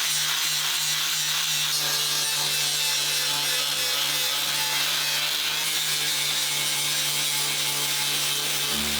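Abrasive grinding on aluminum during a Ram truck rebuild, a steady rough hiss with a constant low motor hum running throughout, loud and close with no pauses.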